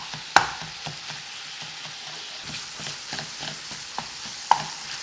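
Ground meat frying in a pan for tostadas while a utensil breaks it into crumbles, steady soft sizzle with intermittent scrapes and sharp clanks against the pan, close up and without talk.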